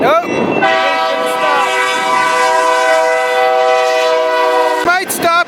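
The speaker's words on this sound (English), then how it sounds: "here comes the train" A freight train rolls slowly past a siding in wide open desert country, its loud sustained multi-tone horn blaring close by for several seconds over the rumble of the cars, then cutting off abruptly.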